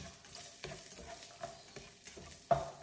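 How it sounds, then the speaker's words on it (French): Garlic and ginger sautéing in a pan, a soft continuous sizzle with occasional stirring scrapes and a sharper clink near the end, close and quiet, no voices. "j'y mets la moitié de l'ail et la moitié du gingembre. Faire revenir quelques minutes"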